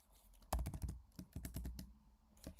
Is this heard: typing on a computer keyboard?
yes